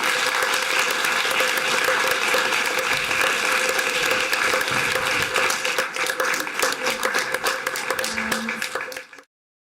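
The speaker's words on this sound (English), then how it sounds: "A big applause for the question." Sustained applause from an audience at a national assembly session in Düsseldorf, with dense, steady clapping that holds for several seconds and then cuts off abruptly at the end.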